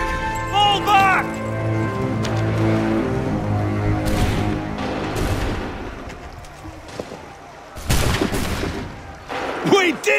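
A musket volley in Assassin's Creed 3 during an American Revolution battle: a few sharp cracks and rolling booms around the middle and near the end, over orchestral music with shouted voices nearby.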